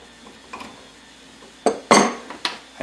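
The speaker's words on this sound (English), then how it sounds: "Go ahead and bring this nut all the way down." A nut is run down onto a Shockwave drive clutch on a Jr Dragster, heard as a few sharp metallic clicks and clinks in quick bursts against a quiet background.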